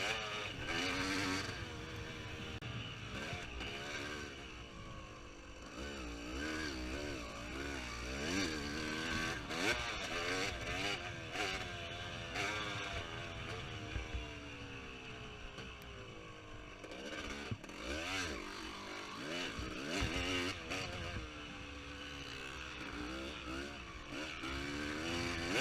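A motocross dirt bike held at wide open throttle during a race, its engine screaming and rising and falling in pitch through shifts, loud and continuous for the whole stretch, heard from the rider's position.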